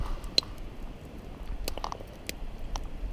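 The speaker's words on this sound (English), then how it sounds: "I think I'm chewing with my mouth full" Quiet, close chewing outdoors during a solo overnight camp in spring bear country, with a few sharp crunchy bites and soft squishy mouth sounds scattered over low background noise.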